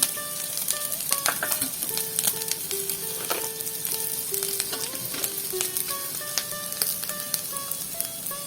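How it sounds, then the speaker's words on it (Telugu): Coconut pieces fry in a pan for coconut chutney, then chopped ginger is added, giving a loud, continuous close sizzle with frequent spatula scrapes and clinks, while a melody plays softly underneath. "ఇప్పుడు తరిగి పెట్టుకున్న అల్లం ముక్కలు వేస్తున్నాను"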